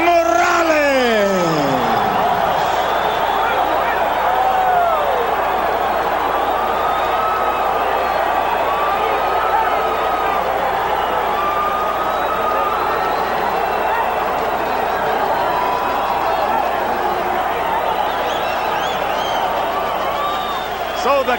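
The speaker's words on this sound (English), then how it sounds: "So the crowd reacts" A boxing arena crowd roars steadily and loudly after a split-decision verdict for unified champion Erik Morales over Marco Antonio Barrera, a dense continuous wash of cheering, whistles and shouting with an announcer's voice at the very start.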